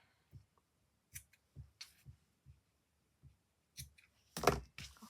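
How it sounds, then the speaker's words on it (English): Scissors snip through macrame cord on a fairy doll in a quiet room, giving a series of soft, close clicks and cuts, with a louder snip near the end. "And then you can cut that bit off."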